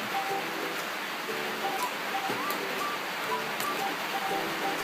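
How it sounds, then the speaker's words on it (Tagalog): Steady rain falls on a rainy morning, a continuous, even hiss that fills the whole stretch. Faint thin tonal sounds drift above it, and no one speaks. "Umuulan mga kadadis eh."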